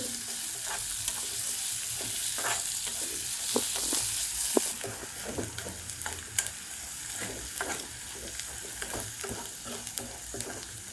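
Spinach for Sindhi sai palak fries and is stirred in a pan, a soft, fairly quiet sizzle broken by irregular light clicks and scrapes of the spoon.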